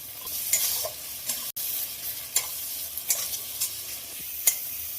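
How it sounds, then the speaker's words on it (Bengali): A thick mustard, poppy seed and green chilli paste fries quietly in a pan while a spoon scrapes and stirs in short, irregular strokes, close by. "সর্ষে পোস্ত কাঁচা লঙ্কা বাটাটা একটু ভাজার জন্য খুব ভালো করে নেড়ে দেবো।"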